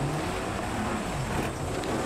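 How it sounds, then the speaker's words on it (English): Damaged car engine in the DiRT Rally 2.0 racing game, a rough, steady drone with a loud, continuous broadband roar and no gaps. "My engine sounds horrible."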